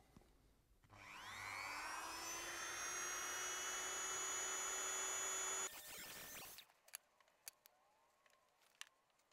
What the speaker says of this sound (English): I'm basically going to cut through the plastic and through pins and all sorts of bits and pieces